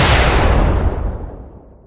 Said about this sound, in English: Gunshot to that.